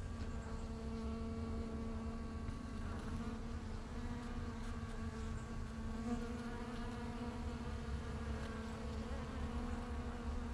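Bees buzz steadily at close range while gathering pollen from epiphyllum orchid cactus flowers, a soft continuous drone with no voices.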